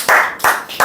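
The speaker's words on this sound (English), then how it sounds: "Clapping, please." Audience clapping in a classroom presentation setting: three loud, close bursts of clapping with short gaps between.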